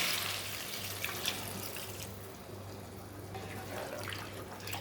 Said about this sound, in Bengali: এবার এই এর মাংসগুলোর মধ্যে দিয়ে দেবো পরিমাণ মতো গরম জল